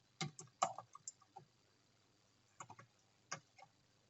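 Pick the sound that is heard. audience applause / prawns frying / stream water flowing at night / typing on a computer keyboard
typing on a computer keyboard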